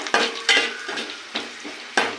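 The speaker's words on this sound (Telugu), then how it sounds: "ఇప్పుడు ఫస్ట్ ఎల్లిపాయలు వేసుకోవాలి. ఎల్లిపాయలు వేసుకున్నాక కొద్దిగా వేగనియండి." Onions frying in oil with curry leaves, a steady close sizzle broken by several sharp scraping and clinking stirs of a spoon against the pan.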